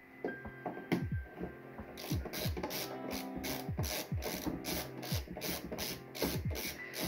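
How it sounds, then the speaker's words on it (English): An LTT ratcheting screwdriver clicks as it turns, giving steady mechanical ratchet ticks in short repeated bursts, close and fairly quiet, with no talking. "this one is not as smooth ratcheting compared to that one"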